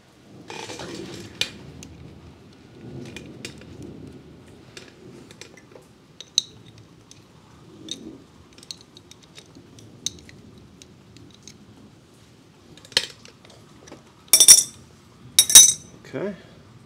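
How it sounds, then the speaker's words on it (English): Metal drain cap being threaded back onto the sump of a Kawasaki FJ180V engine: scattered small metallic clinks and scrapes, then a few sharper clanks near the end, close up over a quiet low background murmur. "Let's put the drain cap back on."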